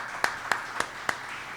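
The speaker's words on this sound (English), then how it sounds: "Give him a round of applause." Four sharp, evenly spaced hand claps ring out at a press conference for a city councillor, sparse and close rather than full applause.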